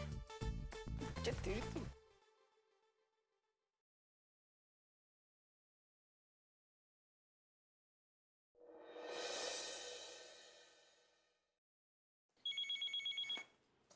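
A telephone rings in two separate bursts with long silent gaps between, clear and fairly close, after a short stretch of other sound at the start.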